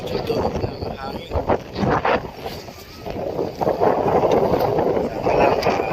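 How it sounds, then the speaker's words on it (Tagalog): Gusty wind at the edge of the sea rushes and batters the microphone in uneven surges, dipping briefly before swelling loud again, with a voice speaking in between. "Kahit yung tunog ng hangin."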